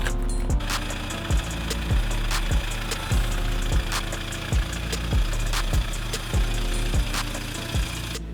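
Toyota Hilux drag build engine running with a lumpy, loping idle, a steady low rumble pulsing in regular beats about every half second, loud and close with no talk.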